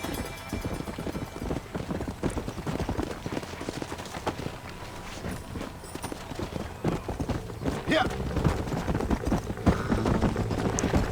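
Horse hooves clip-clop at a gallop in the Western video game Red Dead Redemption, steady and busy beneath music, distant gunfire and voices talking throughout.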